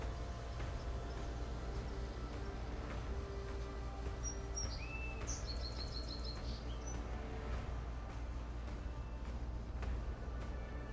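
Birds near a beach let out a few brief, high chirps and whistles midway, faint above a constant low background hum that fills the rest.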